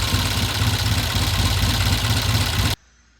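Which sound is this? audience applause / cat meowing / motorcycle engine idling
motorcycle engine idling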